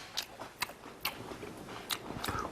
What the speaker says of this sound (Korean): 파스타 한번 먹어볼게요.